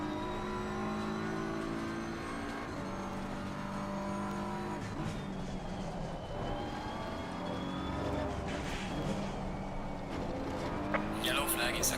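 Race car engine in Assetto Corsa Competizione at Suzuka, a sustained high whine that rises and falls through gear changes as the car accelerates and brakes, with a driver's voice talking over it.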